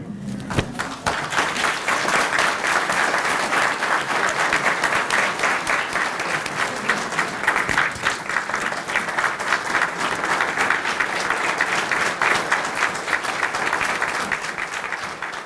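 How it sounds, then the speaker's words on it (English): An audience at a fire department promotion ceremony for a chief gives long, sustained applause: a thick, even wash of many clapping hands, loud and continuous throughout, with a few sharper claps standing out near the start. "Please join me in applauding Special Advisor Jones"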